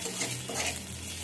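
Onions frying in a pan, a steady soft sizzle with faint stirring, close and continuous, no voices.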